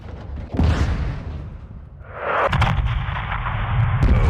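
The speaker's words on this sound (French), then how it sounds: "larguez un missile ou utilisez le canon 40 mm contre cette porte" Heavy cannon or missile fire from an AC-130 gunship in Modern Warfare 2 booms out as two loud, deep blasts, each followed by a long rumbling roar.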